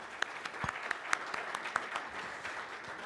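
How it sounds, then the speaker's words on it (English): Faint applause from a small crowd, a light patter of claps with a few sharper individual hits standing out, no voices. "I think we should give a warm applause"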